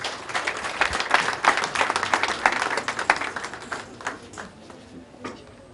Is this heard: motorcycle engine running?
no